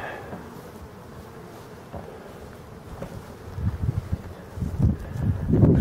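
Forest honey bees of a local strain buzz around hives set in tall grass in late summer, a steady insect drone with wind and rustling, growing louder and closer toward the end.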